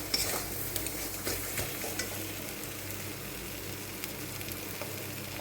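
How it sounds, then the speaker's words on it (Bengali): Spice paste for a prawn curry sizzles in a pan as a spoon scrapes and stirs it, a soft continuous fry with repeated close stirring clicks and no voices. "মশলাটা ভালো করে ভাজতে ভাজতে একদম শুকিয়ে আঠা আঠা হয়ে গেছে।"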